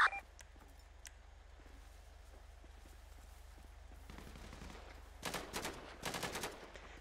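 Rapid bursts of gunfire from a vehicle in a police roleplay shootout near a train track, heard as two clusters of sharp cracks late on, loud against a quiet, humming background.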